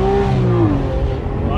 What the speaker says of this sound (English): I mean, you can downshift now.